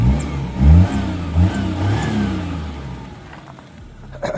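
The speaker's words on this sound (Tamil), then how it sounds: "ஸ்டார்ட் பண்ணி வச்சிங்கண்ணா. ரேஸ் பண்ணுறேன் பாருங்கள்." A 2018 Maruti Omni petrol van engine revs up in a couple of close, loud swells, then drops back toward a steady idle.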